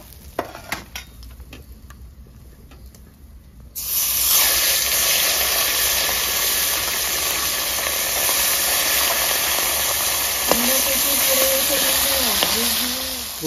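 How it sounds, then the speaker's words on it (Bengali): Fish head frying in hot oil for a rohu curry, a steady loud sizzle starting after a few quiet seconds of clinking, with occasional utensil scrapes and a faint voice near the end. "মুড়োটা ভেজে নেবো"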